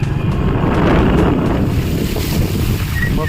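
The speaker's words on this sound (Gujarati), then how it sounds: "આ છે આ નદી આ પાણી પાણીમાં જાય છે" River water from an overflowing dam rushes steadily and loudly close by, a continuous roar mixed with wind buffeting the microphone, with no voices.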